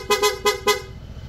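Four short, sharp honks from a high-pitched aftermarket PIAA horn on a Honda ADV160 scooter sound close by in a quick rhythmic burst, then stop.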